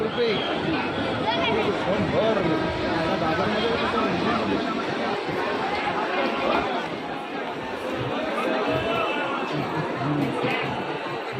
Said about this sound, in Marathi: या ठिकाणी गणपती बाप्पांचे फुलांचे फळांचे सर्व तिथं मार्केट लागलेलं आहे त्यामुळे खूप मोठी गर्दी